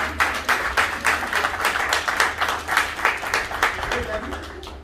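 Guests applaud the witnesses at a wedding, with steady crowd clapping running throughout and voices mixed in.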